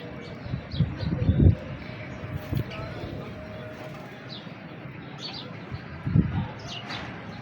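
Pigeons, kept as a fancier's birds, coo in low soft bursts with a few brief chirps, under a steady murmur of background sound and talk.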